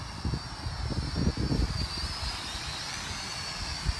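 Holy Stone X400 quadcopter drone flying outdoors and attempting a flip, its steady high-pitched rotor whine running continuously alongside low rumbling wind buffeting, with brief surges in the motors.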